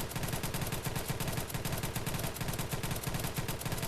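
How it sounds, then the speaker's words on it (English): Rapid, regular bursts of pistol shots at an indoor shooting range, a steady rhythmic string of loud, close reports repeating several times per second throughout. "I'll just be shooting a regular old pistol."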